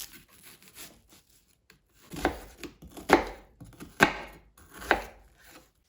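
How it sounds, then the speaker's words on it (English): A knife chops a small peeled onion on a cutting board, with four or five distinct crisp cuts landing about a second apart, close and alone. "Then I'm going to peel and cut one small onion."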